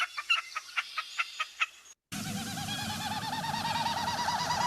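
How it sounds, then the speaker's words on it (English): A series of sharp, evenly spaced bird calls is followed after a brief gap by the steady, rapidly pulsing winnowing of wind through a diving bird's tail feathers, loud and continuous. "That's the tail feathers."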